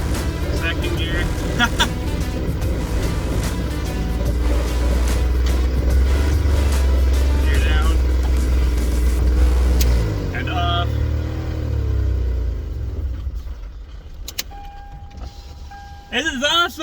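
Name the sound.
third-generation Toyota 4Runner driving in second gear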